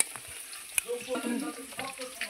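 Potatoes frying in a pan of oil with a soft, steady sizzle and a few faint clinks and stirring sounds, fairly quiet and close.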